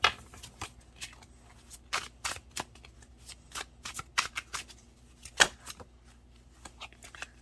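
Tarot cards shuffled by hand in a quiet room, a run of quick riffling bursts and soft slaps of varying strength with brief pauses between them.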